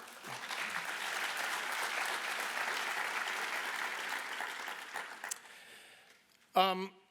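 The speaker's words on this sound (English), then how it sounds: "I'd like to just give in absentia a round of applause for Mark Tessier-Lavigne." A round of applause from an audience fills a hall, dense and sustained before fading out, with a brief voice at the end.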